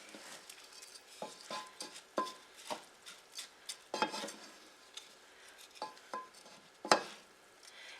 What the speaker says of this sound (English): So we're going to stir it around until it gets a nice toasty color.